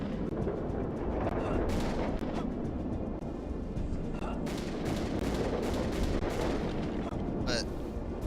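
Dense, continuous video game gunfire and explosions rumble loudly throughout, with rapid bursts and sharper cracks layered on top, while a person talks over the noise.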